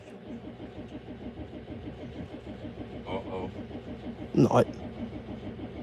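A Cummins 12-valve inline-six diesel in a motorhome cranks with a rapid rhythmic chug of the starter and a few louder bursts near the end, while people talk quietly over it.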